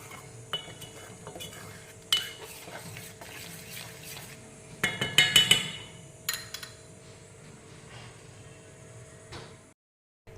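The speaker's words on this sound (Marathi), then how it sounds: "हे कडेचे सगळं काढून घ्यायचं ह्याच्यामध्ये" Scraping and stirring in a pan of thickened milk while making rabdi, with scattered metallic scrapes and clinks of a spoon against the pan sides, a busier cluster midway, over a steady low kitchen hum; no talking.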